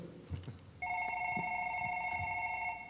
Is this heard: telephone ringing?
yes